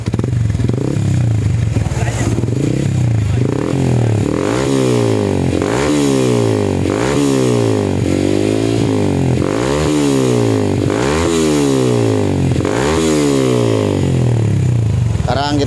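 A Yamaha MX King motorcycle fitted with an SKR Racing exhaust runs loud and close in a welding workshop, its engine note surging and dipping in a steady repeating rhythm.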